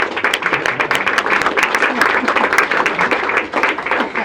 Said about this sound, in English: go ahead, you can clap for him